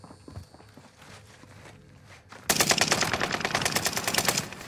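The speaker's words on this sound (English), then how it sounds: "They're both shooting at me." Enemy gunfire in Warzone, with soft footsteps at first and then a sudden loud burst of rapid automatic shots, a fast regular rattle that runs on to the end.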